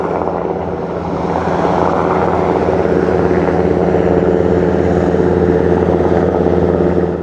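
A helicopter's loud, steady rotor and engine roar, constant throughout with a dense rumbling drone and no voices.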